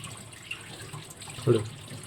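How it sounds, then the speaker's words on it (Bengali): Water runs steadily from a tap while hilsa fish is rinsed under it, with a soft splash partway through. "এবার মাছটা ভালো করে ধুয়ে নিই কান ফানগুলো"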